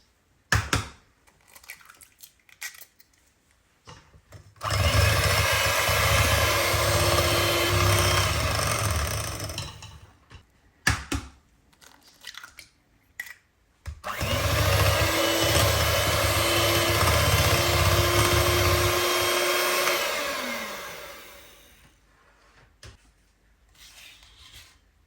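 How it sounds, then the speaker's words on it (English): Three eggs being whisked into Victoria sponge cake batter with an electric mixer, a steady loud whirring drone in two long bursts with brief pauses between, close and without talk. "and 3 eggs, whisking these separately"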